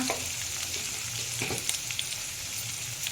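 Turmeric and mixed vegetables for a vegetable curry go into a pan of hot oil, giving a steady close sizzle with occasional stirring scrapes and clinks, no talking.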